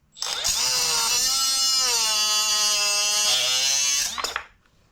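A high-pitched power tool whines steadily for about four seconds while cutting down an old steel Allen wrench, starting and stopping abruptly. Loud and close, with no voices.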